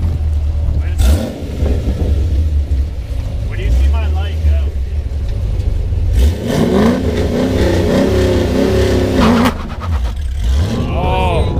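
A Chevrolet Camaro engine roars loudly through repeated revving and a clutch dump, with rising and falling engine pitch close by, while excited people shout and talk over it.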